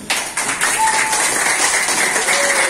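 A crowd claps steadily in lively applause, dense and sustained throughout, with a few faint whistles or cheers mixed in.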